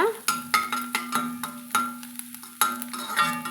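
Chickpeas sautéed in a pan with a sprinkle of coriander leaves for chana sundal: a spoon scrapes and clinks against metal in a loose rhythm of close, sharp strokes over a faint sizzle.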